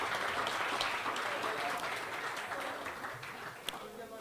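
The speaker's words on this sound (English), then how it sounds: "Give yourselves one more round of applause." Round of applause from a crowd of flight school representatives at a pilot insurance safety event, sustained clapping that gradually thins out with talking mixed in.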